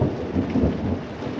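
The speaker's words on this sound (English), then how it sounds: "we just had a rainstorm blow through and it is absolutely dumping outside" Heavy rain pours down outside a van during a rainstorm, a dense, loud roar of drops with a deep rumble of thunder rolling beneath it, continuous throughout.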